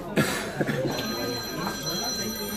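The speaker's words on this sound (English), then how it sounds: "That's my mother's ringtone." A phone ringtone chimes in repeated bursts against a busy room, with voices talking around it.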